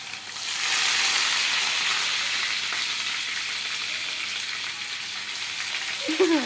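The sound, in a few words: ginger garlic paste frying in oil with mustard seeds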